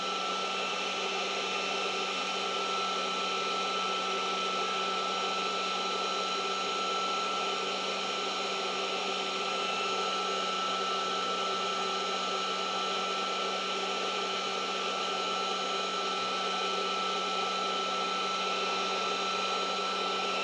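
A Bolt Buster induction heater heats old rusted nuts, unremoved since 1949, giving a steady, loud, continuous electronic hum and whine that holds unchanged throughout with no talking.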